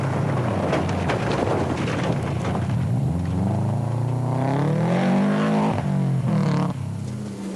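A Subaru rally car drives a gravel rally stage, recorded from on board, with the engine rising and falling through revs and gear changes amid loud wind and road rumble.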